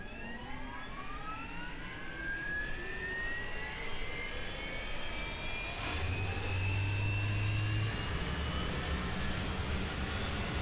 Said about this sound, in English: So let's start with our right engine.